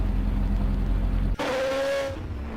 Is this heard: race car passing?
yes